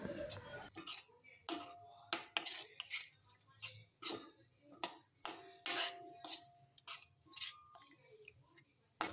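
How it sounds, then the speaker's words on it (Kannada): Mehendi and bhringraj paste is stirred together in a bowl for a homemade hair dye, making repeated close clicks and taps of a spoon against the bowl at a steady rhythm, quiet and with no talking. "ಇವಾಗ ಎರಡನ್ನ ಒಟ್ಟಿಗೆ ಮಿಕ್ಸಪ್ ಮಾಡಬೇಕು ಮಿಕ್ಸಪ್ ಮಾಡಿ ಸರಿಯಾಗಿ ಕೊಚ್ಚಬೇಕು"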